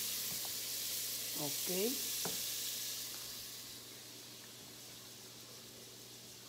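Garlic fries in a pan for arroz caldo, a loud, close, steady sizzle that hisses strongly at first and then gradually softens. A voice speaks briefly near the start.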